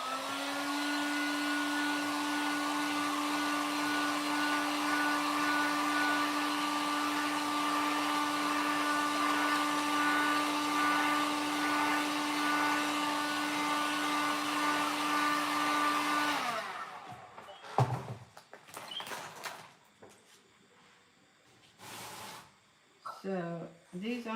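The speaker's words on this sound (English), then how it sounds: "I'm just going to dry that off really fast" A handheld dryer blowing to dry paint on a repeatable stencil, a loud, steady whirring hiss held close for about sixteen seconds before it cuts off, followed by scattered handling knocks.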